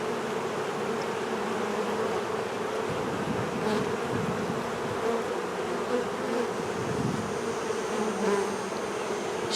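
Carniolan honeybees hum and buzz steadily from an open top bar hive, a dense continuous drone close by with no voices.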